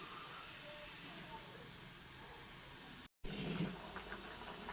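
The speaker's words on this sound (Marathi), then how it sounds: "आता हे उकळून थोडं पाच दहा मिनिट ह्याला उकळू द्यायचं तांदळाला" Rice for biryani simmering in a pot makes a faint, steady hiss and bubbling throughout, broken by a short silent gap near the end.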